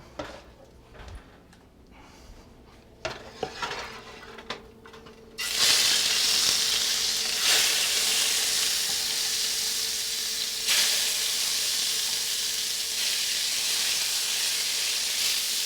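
Meat dropped into hot oil: quiet handling and clatter at first, then a sudden loud, steady sizzle that holds close and constant.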